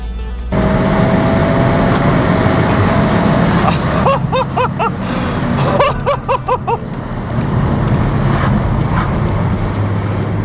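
A VW Mk7.5 Golf R engine and exhaust drone loudly, with sharp bursts of popping crackle in the middle before settling back to a steady roar.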